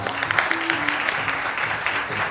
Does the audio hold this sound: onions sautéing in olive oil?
no